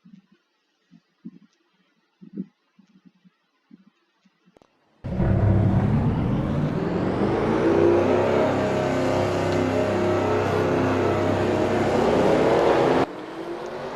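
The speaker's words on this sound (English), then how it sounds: "We're about to start the engines." Race car engines in a motorsports video game start up at once and rev into a loud, sustained roar that holds steady for several seconds, then drops to a lower drone, after a few soft blips at the start.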